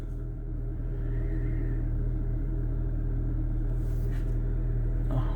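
A used 1.6-litre car engine with 54,000 miles runs with a steady low rumble close by, a smooth even drone with a faint clunk near the end and no talking.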